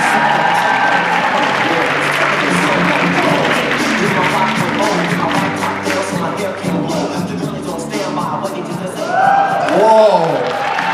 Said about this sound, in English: Melissa, give her a round of applause.